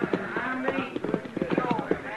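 Horse hooves clip-clop in a steady walking rhythm as riders approach a chuck wagon in an old Western radio drama, close and moderately loud, with someone talking over the hoofbeats.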